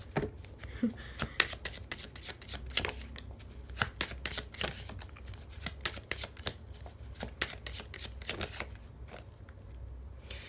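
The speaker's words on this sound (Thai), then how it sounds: "ไพ่หลุดมือบ่อยมาก" Tarot cards are shuffled by hand in quick irregular bursts of crisp flicks and riffles, close and fairly soft, continuing for about ten seconds.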